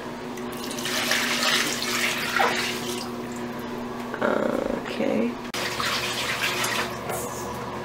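Water pours into a Giantex portable washing machine, a steady splashing rush that runs through the clip with a brief pause near the middle; people talk over it.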